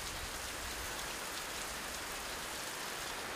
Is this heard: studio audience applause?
no